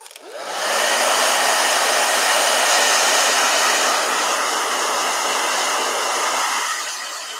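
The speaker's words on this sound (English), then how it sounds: "Here, let me blow dry real quick." A hair dryer blows steadily to dry an acryla-gouache painting. It is loud and close, starts abruptly, holds a constant whooshing roar with a faint motor whine for several seconds, and then tapers off.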